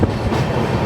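A passenger train rolls on its rails, close and loud, with a low rumble and a rhythmic clatter of wheels. No one speaks.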